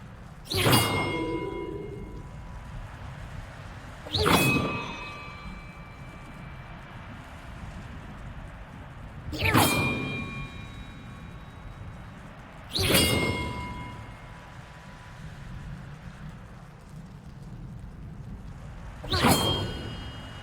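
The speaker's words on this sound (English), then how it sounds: "Perhaps the map contains clues about the order I'm supposed to ring the bells in." Bells in a Hogwarts Legacy puzzle ring out in five separate loud strikes, each with a sharp attack and a long metallic ring that fades slowly, spaced a few seconds apart with no talking.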